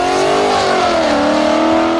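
A Ford Mustang with a naturally aspirated engine accelerates hard, its loud, close exhaust note climbing and wavering with rich rumbling harmonics throughout a short continuous pull.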